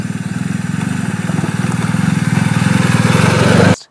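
A BMW R 1250 GS motorcycle rides off-road, its engine giving a steady, loud, pulsing drone that holds close and continuous before cutting off abruptly near the end.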